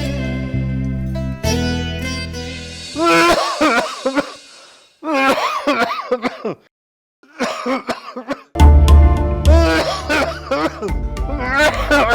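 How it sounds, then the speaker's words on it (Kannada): Harsh, repeated coughing fits, loud and close, broken by short pauses and a wheezy breath. "ಯಾಕಪ್ಪ ಅಷ್ಟೊಂದು ಕೆಮ್ತಾ ಇದೆಯಾ? ಮತ್ತೆ ಕೆಮ್ಮು ಜಾಸ್ತಿ ಆಯ್ತಾ?"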